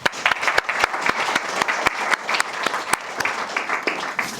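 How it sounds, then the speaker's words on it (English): An audience at a football and religion exhibition opening applauds the panel and chair, a dense burst of close clapping with sharp individual claps standing out, steady for a few seconds. "we should welcome the panel and the chair, Kevin, with a round of applause"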